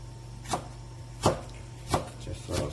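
A kitchen knife slices carrots thinly on a cutting board, landing four distinct, crisp chops spaced roughly evenly apart, with no voices.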